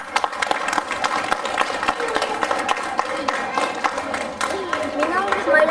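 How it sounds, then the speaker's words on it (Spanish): An audience at a school recital claps hands loudly, a steady patter of claps running throughout while voices talk over it. "Muy bien, fuerte palmas."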